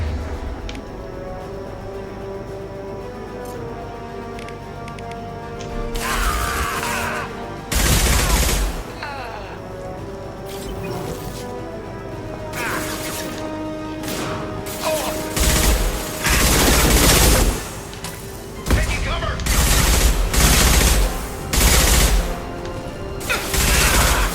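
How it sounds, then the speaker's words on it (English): Impact gun fired in Mass Effect 2 combat: loud broadband blasts in irregular bursts, clustering more densely toward the end over a steady low hum. "Firing an impact gun."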